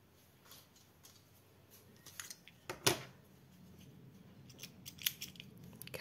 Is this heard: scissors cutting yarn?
yes